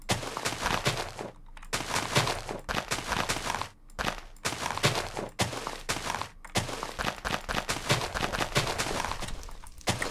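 Loud, dense bursts of booming explosions and crackling blasts in Minecraft, coming in several long waves separated by short gaps.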